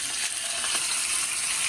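Sesame seeds, green chili and peanuts frying in hot oil for sabudana khichdi, a steady close sizzle with faint crackles and light pops throughout, no voices.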